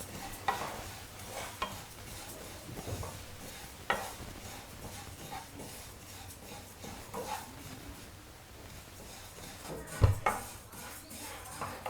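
Ingredients for a mint (pudina) chutney dry-roasting in a pan with no oil, a soft scraping stir with occasional light clinks of the utensil against the pan, steady and close over about twelve seconds.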